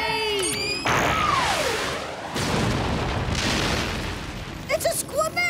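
A cartoon methane-powered torpedo launches with a loud whooshing burst and descending whistle, followed by sustained rushing noise that fades, with a brief boom in the middle and squeaky voices chattering at the end.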